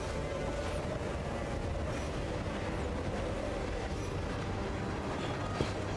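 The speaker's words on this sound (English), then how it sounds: "Oh shit, we're on a train." Moving train in the video game Hitman 3, a continuous low rumbling roll with faint rhythmic clatter, steady and fairly quiet with no voices.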